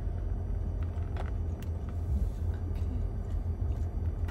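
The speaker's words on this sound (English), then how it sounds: "so I'm gonna drive home real quick" A steady low rumble of a car being driven, heard from inside the cabin, with faint clicks over the constant road and engine noise.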